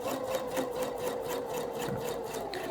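A sewing machine does free-motion embroidery on a soluble plastic sheet, running steadily with a fast, even needle rhythm and a constant close, moderately loud whir.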